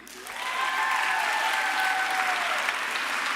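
An audience at a school band end-of-year awards event breaks into applause, a steady, fairly close clapping that builds quickly and holds for a few seconds.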